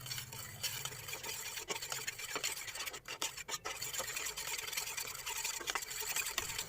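A spoon stirs a quick dessert mixture with a large spoonful of whipped cream (crème chantilly) folded in, giving a steady, close scraping and squelching rhythm with a few sharper clicks against the bowl.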